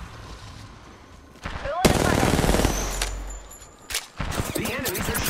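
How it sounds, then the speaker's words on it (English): Bursts of enemy gunfire in the battle royale game Apex Legends, rapid automatic shots rattling over game sounds and announcer-style voice lines, fairly loud and dense. "The enemies are shooting at me."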